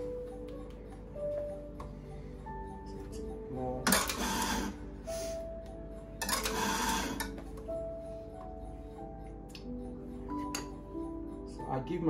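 An espresso grinder runs in two short bursts on its first grind of the day, each roughly a second long, loud and close, amid a quiet room with steady hum and faint clicks.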